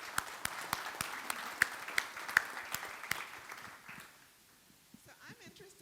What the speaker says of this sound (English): Everyone give yourself a round of applause.